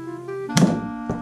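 A toy superhero gun's dart strikes a target with a single hollow thunk, then a lighter knock follows, close and loud over a faint electronic hum.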